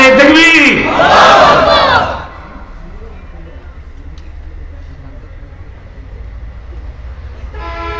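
A crowd at a Bengali Islamic sermon gathering shouts Nara-e-Takbir in unison, loud and close for about two seconds. Afterward only a low background hum remains.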